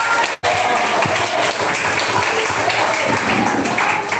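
A church congregation claps along in praise during a worship service, a dense steady wash of many hands filling the space almost without a break, broken only by a brief dropout near the start.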